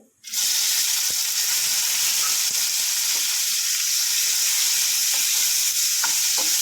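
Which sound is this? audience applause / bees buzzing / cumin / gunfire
cumin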